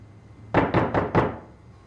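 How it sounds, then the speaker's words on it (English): Four loud, evenly spaced heavy knocks bang on a door in a Japanese horror film, each a sharp thud with a short ring-out, over a quiet background hum. "there's a familiar banging on the door as our hero snaps out of it"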